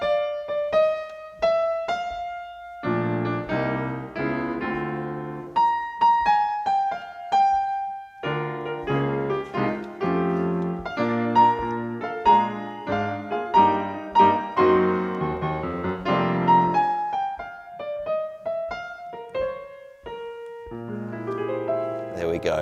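The opening of a tune rings out on a melody instrument over jazz piano harmony, with a flowing tune above lower chords over about twenty seconds, played close and without talk.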